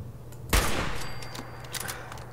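Gunfire from a machine gun turret in Fallout 4: a sharp burst at about half a second, then a sustained crackling fusillade that fades gradually, with lighter scattered shots continuing at moderate distance.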